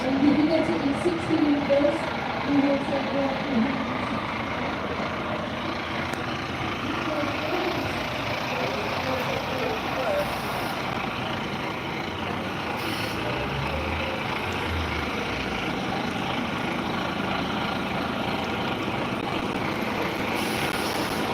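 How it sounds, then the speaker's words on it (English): A bus reverses into a bus garage, its diesel engine a loud continuous low rumble that stays steady throughout, with faint intermittent higher tones like reversing beeps or brake hiss in the background. "He's backing his bus in."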